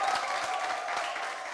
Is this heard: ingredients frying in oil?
no